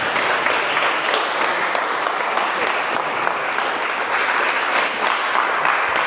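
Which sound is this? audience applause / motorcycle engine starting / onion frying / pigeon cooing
audience applause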